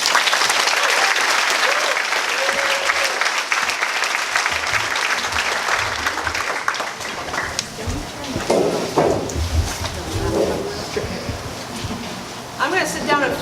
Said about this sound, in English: Give me a round of applause for them.